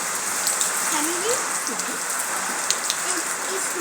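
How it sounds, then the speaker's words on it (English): Rain falling on a city street, a steady broadband hiss with scattered drop ticks, under faint voices and sporadic background sounds. "It's raining"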